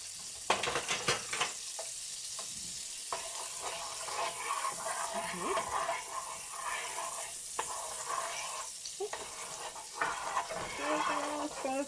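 Butter melting in a hot pot for shrimp and zucchini linguine, a steady low sizzle with occasional clinks and stirring scrapes, moderately faint and continuous throughout.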